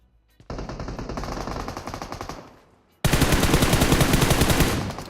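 Automatic weapon fire in a shooting video game, with one sustained rapid burst, a brief pause, then a louder continuous burst of fast, evenly spaced shots, close and dominant with no talking.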